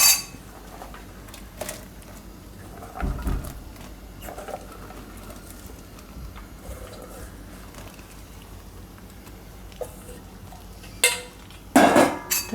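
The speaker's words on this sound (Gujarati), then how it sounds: "હવે આમાં આપણે નાખી દઈશું આ ડુંગળી." Onions tipped into a pan of yogurt cooking for malai pyaaz: a soft thump and clatter midway, with a few scattered clinks of spoon on pan and a brief louder rattle near the end, close and quiet.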